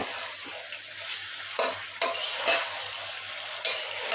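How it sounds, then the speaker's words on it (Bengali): Pointed gourd and potato pieces are stirred and fried in a pan, a continuous close sizzle broken by several sharp scrapes and clanks of the spatula against the metal; no one speaks. "এখন এই আলু পটল ভালোভাবে আমি নেড়ে ছেড়ে ভালোভাবে কষিয়ে নেব"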